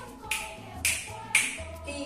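Close finger snaps in body percussion, four crisp bright snaps at an even, moderate pace over a quiet background, the last one softer.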